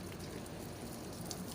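Water poured over a bougainvillea bonsai, a soft continuous splashing and trickling close by, faint and even with no voices.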